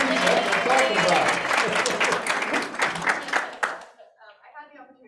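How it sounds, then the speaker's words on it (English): A crowd bursts into sustained applause, dense clapping filling the room, which thins out toward the end as a few voices come through. "give Paige a round of applause"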